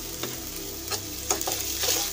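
Chopped ginger fries in a pan with a little salt and turmeric, a steady close sizzle broken by a few scraping stirs of a spoon.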